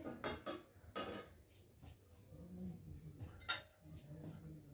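A metal lid comes off a pot of simmering dal with spinach, giving a few light clanks and clinks of cookware in a quiet kitchen, with faint talking in the background.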